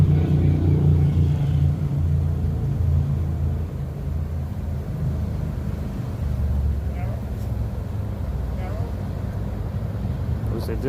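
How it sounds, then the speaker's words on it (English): Cars pass along a street in a steady low rumble of traffic with wind buffeting the microphone, someone talking over it throughout. "but cars keep getting in the way."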